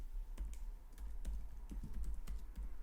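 Keys clatter on a computer keyboard while C# code is typed, a run of close, crisp clicks in an uneven rhythm with brief pauses, over a low steady hum and with no one talking.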